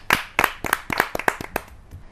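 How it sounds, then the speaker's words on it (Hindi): Audience at a Hindi kavi sammelan poetry gathering claps for a poet, a brief burst of about seven sharp, separate claps close to the microphone that thin out toward the end. "आपकी जोरदार तालियां मिले बड़े कवि को"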